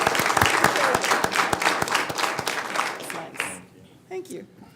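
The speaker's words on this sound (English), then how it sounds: "We can give her a big round of applause." A school board meeting audience claps for the board chair in a steady round of applause that fills the room for about three seconds, then thins out and stops, leaving brief murmurs and a voice at the end.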